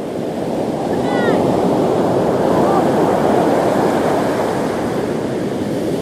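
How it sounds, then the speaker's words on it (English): Heavy ocean surf churning and crashing along the rocky Patrick's Point coast in California, a loud continuous roar of breaking water with wind buffeting the microphone and a faint high bird call early on. "Man, that's a ton of waves."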